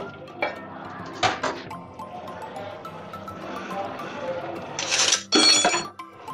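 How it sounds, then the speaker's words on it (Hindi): Chicken keema fries with spices in a pan while a spoon stirs and scrapes it, producing several sharp metallic clanks against the pan over a low sizzle, close up, with someone speaking in places. "इसे यकजा करेंगे मसाले के साथ, कीमे के साथ, और मजे से भूनते हैं।"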